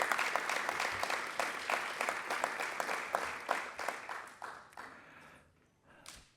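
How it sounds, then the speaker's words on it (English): Audience applause for the San Diego Police Department at a city Pride Month kickoff event, a dense burst of many hands clapping steadily, then thinning and fading out with a few last claps. "I think they deserve a round of applause"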